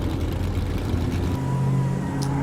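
Race vans, a Mopar, a Ford Transit and a VW, pull hard off the start line at a drag event. Loud, steady engine roar runs throughout with one dominant engine note, close and continuous, and no talk.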